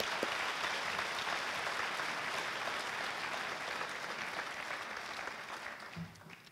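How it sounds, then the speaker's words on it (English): An audience at a high school athletic awards ceremony fills the room with sustained, dense applause that gradually tapers off, with a faint voice near the end. "So how about another round of applause for these kids right here."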